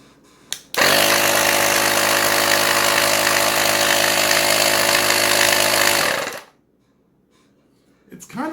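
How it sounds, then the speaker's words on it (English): An Air Hawk Pro portable air compressor runs continuously for several seconds, a loud, close, buzzing motor drone with a steady pitch that cuts off abruptly, leaving near silence before a faint handling noise. "It's kind of loud. It kind of reminds me of a typical air compressor."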